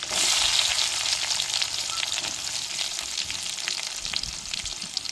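Eight large onions hit hot oil already holding mustard seeds and curry leaves, setting off a loud, close, continuous sizzle with a busy crackle that eases slightly over time; no one speaks.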